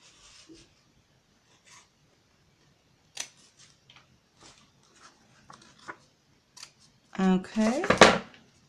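Scissors snip paper while making book pockets: a string of quiet, crisp cuts spread through the clip, then a louder burst of rustling and snipping near the end, with a person speaking at times.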